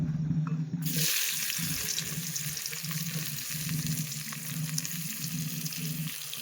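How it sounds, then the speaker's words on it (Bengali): Chopped onions sizzle in hot oil in a constant bright hiss over a low steady hum, with no voices. "এই যে পেঁয়াজটাকে ভাজবো"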